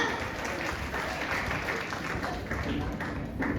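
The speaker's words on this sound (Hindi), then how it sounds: "गुरुजी के लिए एक बार जोरदार तालियां" An audience claps for the guru at a Bhagalpur business recognition gathering, a steady, dense round of applause that fills the hall for the whole stretch, with no talk over it.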